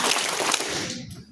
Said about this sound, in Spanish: Dos aplausos.